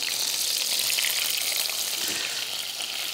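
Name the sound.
papio fish fillets searing in a pan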